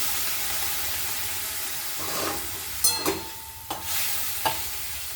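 Water goes into a pan of frying pumpkin greens, producing a steady sizzling hiss with a few sharper spluttering bursts and scraping stir sounds, close and moderately loud, without speech.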